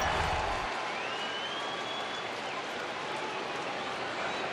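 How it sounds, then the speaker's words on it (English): A big crowd roars and cheers steadily at a Diamondbacks–Cardinals baseball game, a dense, sustained wash of voices and scattered clapping that holds at one level, with a thin whistle audible over it. "The crowd is going crazy."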